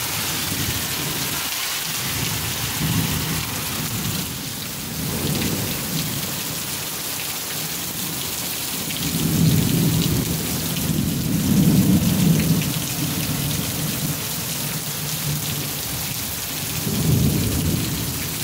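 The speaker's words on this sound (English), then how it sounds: "We're getting some lightning strikes." A heavy thunderstorm with steady, loud rain pouring down and several deep rolls of thunder swelling and fading, with no voices.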